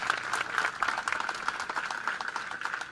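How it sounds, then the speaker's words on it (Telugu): Audience at a protest rally applauds, a dense steady clapping from many hands throughout, fairly loud and close, with no speech over it. "మీ అందరి చప్పట్ల మధ్య తీర్మానం చేయడం జరుగుతూ ఉన్నది"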